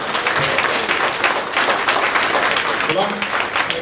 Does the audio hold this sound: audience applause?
yes